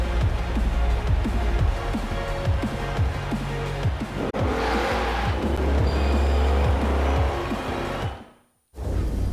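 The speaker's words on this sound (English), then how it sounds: "this car actually might have a new engine sound as well" A Porsche 928 GTS V8 engine in Forza Horizon 4 snarls and revs through repeated gear changes, with tire squeal near the end, then cuts out briefly before resuming.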